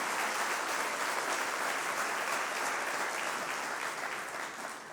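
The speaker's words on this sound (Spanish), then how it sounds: "denle un aplauso al Señor" A church audience applauding the Lord, a dense, steady roar of many hands clapping at once, sustained and fairly even before easing slightly at the end, no talk over it.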